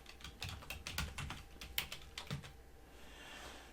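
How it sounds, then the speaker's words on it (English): Someone types on a computer keyboard in a quiet room while searching on Ubuntu GNOME 16.04, producing quick soft key clicks in an irregular burst that fades to near silence. "I'm just going to start typing."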